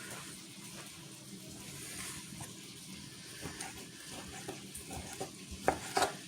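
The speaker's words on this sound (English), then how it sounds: "I'm gonna add a bit more bacon." Bacon sizzles steadily in a pan with a continuous frying hiss while it is stirred, with a few louder clinks and scrapes near the end.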